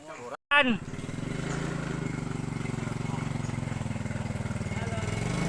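A motorcycle engine idles steadily close by, a continuous low rumble that carries on after a brief cut near the start, with people talking briefly over it in a Sundanese comedy skit.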